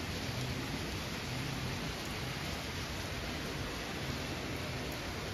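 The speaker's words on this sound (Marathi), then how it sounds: "त्याच्यात पाऊस दिसत नसेल पण खरंच पाऊस जोरात चालू आहे" Heavy rain pours down steadily, a dense, even hiss of water that stays at a constant level throughout with no voices or other distinct sounds.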